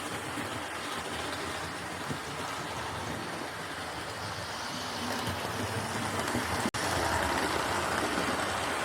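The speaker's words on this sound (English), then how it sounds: "it's got a good view really of the locomotive actually going through the station itself" A Dapol Hinton Manor model locomotive rolls through a station, giving a steady close mechanical rumble and wheel noise over the full stretch, with one sharp click near the end.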